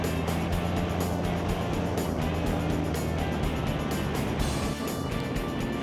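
A 38-foot Image Cat powerboat runs on the river during a poker run, its engines a loud, steady, close roar mixed with wind and water rush throughout.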